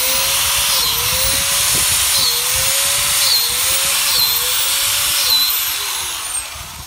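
A power drill bores holes into a log being prepared for growing reishi mushrooms, running loud and close with a steady whine that dips each time the bit bites into the wood.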